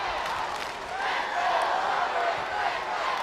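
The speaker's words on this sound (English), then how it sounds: "And you hear the crowd coming alive." A crowd at a high school basketball state championship game roars in a sustained, swelling cheer that fills a large gym, rising toward the middle and holding steady to the end.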